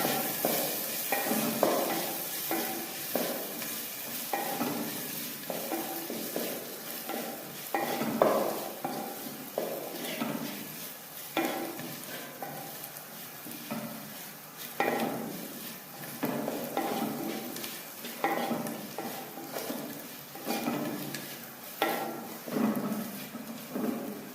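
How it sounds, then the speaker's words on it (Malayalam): Spices with garam masala being stirred in a frying pan for a snake gourd and potato stir-fry: rhythmic scraping strokes of a spoon against the pan over a faint sizzle, repeating steadily and fairly close. "ഇനി ഇതിൻ്റെ പച്ചമണം മാറുന്നത് വരെ ഇളക്കി കൊടുക്കാം."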